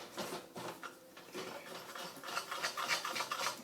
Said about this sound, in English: the more I stir, the finer I can get this sugar